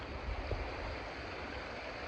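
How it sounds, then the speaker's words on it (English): The Wenlock River on Cape York flows with a steady, moderately faint rushing wash, broadband and continuous with no voices present. "And this is the Wenlock River"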